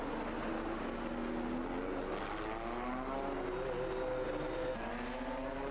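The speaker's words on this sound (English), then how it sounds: "Competitors coming out now for their second practice session." Pre-1966 Grand Prix racing cars, including an Alfa Romeo and a Cooper Maserati, pass Loews hairpin at Monaco during practice, engines rising and falling in pitch over a constant roar of several cars at middle distance.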